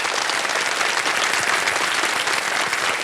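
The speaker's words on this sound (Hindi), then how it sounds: "बधाई बधाई, ताली बज जाए इनके लिए।" A studio audience on a television quiz show applauds steadily, a dense, even wash of clapping that holds at full strength for the whole stretch with no talk over it.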